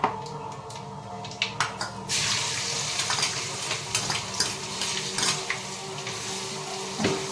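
Turmeric and spices frying in a pan over a lowered gas flame, a steady sizzle with occasional stirring clinks and scrapes, no voices.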